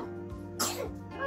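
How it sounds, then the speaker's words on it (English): A woman coughs in her sleep, a few short rough coughs close by, with no talk over them. "She's just coughing in her sleep."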